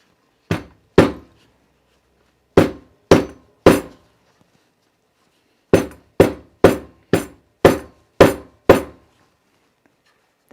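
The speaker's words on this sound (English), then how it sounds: "All right, I'm gonna get my hammer." A hammer strikes sewn fabric seams laid on a mat. Sharp, close knocks arrive in bursts of two, then three, then eight, with silent gaps between the groups.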